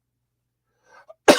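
One abrupt, sharp cough bursts out at the end after near silence, preceded by a faint breathy throat sound, from a man on a live talk show who is a heavy smoker.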